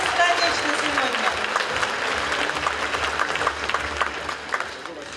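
Sustained applause from a crowd at a ceremony where Tolyatti police officers receive honorary certificates, a dense steady patter of clapping with some voices mixed in.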